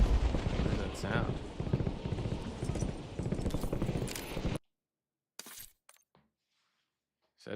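Rapid gunfire in the video game Call of Duty Warzone, set in Verdansk, crackles densely and loudly for about four and a half seconds, mixed with voices, then cuts to near silence broken by a few brief, faint sounds.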